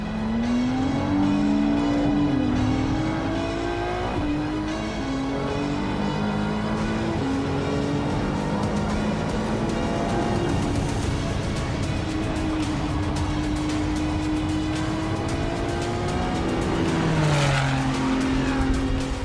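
A Ferrari Challenge race car engine drones steadily at high pitch leaving the pit lane at Phillip Island, its note shifting through gear changes, then revs hard near the end; loud and close throughout.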